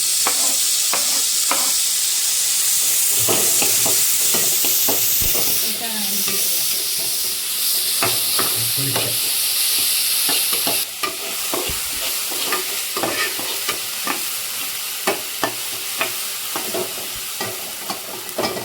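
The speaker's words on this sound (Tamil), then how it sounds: "வெங்காயம் நல்லா வதங்கிடுச்சு" Steady sizzling of onions sautéing in a pan, with frequent scraping and clinking as they are stirred, close and continuous.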